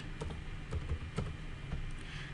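Light typing on a computer keyboard during an MS Word session, a few soft, scattered key clicks heard faintly over steady background hiss.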